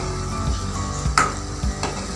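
Banana flower vadai fry in hot oil, giving a dense, continuous sizzle with small pops and faint utensil knocks close by, and no talking.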